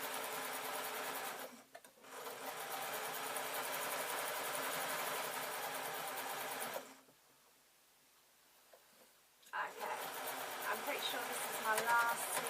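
A sewing machine stitches a seam on a large Easter shoulder bag decorated with buttons. It makes a close, steady mechanical whir that stops briefly once, then pauses for a longer stretch before running again.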